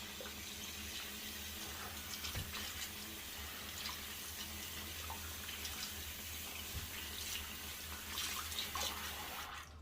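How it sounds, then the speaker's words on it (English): Running tap water rinsing a bar of clear glycerin-based soap, a steady close hiss and splash of water in a sink with small fluctuations, no talking. "we're just going to rinse it off now"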